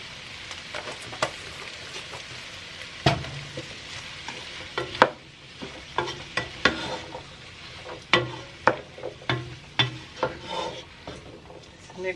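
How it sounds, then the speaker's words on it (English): Cumin is stirred into a bean and chickpea soup in a pot, producing quiet scraping and knocking of a spoon against the pan in an irregular rhythm over a soft sizzle, with no talking. "Mix that up really well."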